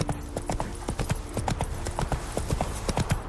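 Hooves of a horse in The Witcher 3 video game clip-clopping in a quick, even trotting rhythm, close and distinct, with faint background tones underneath and no speech.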